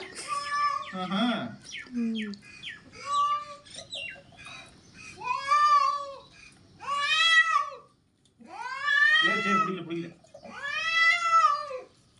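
A cat meows repeatedly while being bathed, long, drawn-out, complaining cries, close and fairly loud, with short pauses between them.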